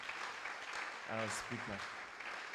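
A large audience claps steadily to welcome a speaker to the stage at an event on Ghana's natural gas pipelines. The dense clapping runs throughout while someone briefly talks over it.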